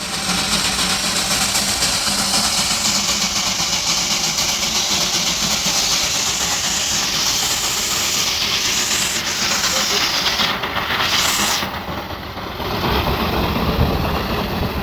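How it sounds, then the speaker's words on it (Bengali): A steam locomotive of the Darjeeling toy train hisses with a steady, loud, broad rush that holds throughout, briefly dipping and swelling near the end. "অথবা বিকেলে কোনো পার্কে হাঁটতে গিয়ে যদি দেখতে পান এরকম একটা টয় ট্রেন, কেমন হবে বলুন তো?"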